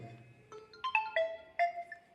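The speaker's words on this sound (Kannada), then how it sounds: "ಫೋನ್ ಕಾಲ್ ಬಂದಿದೆ" An electronic phone ringtone plays a short melodic sequence of clear beeping tones, triggered when a line-to-ground fault breaks the circuit in an automatic fault-detector science exhibition model. It sounds alone against a quiet background.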